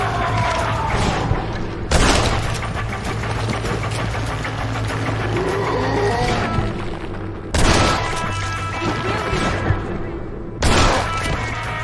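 Gunfire in Red Dead Redemption: Undead Nightmare, three heavy, booming shots spaced several seconds apart, loud and close, over a busy bed of game sounds and a low hum.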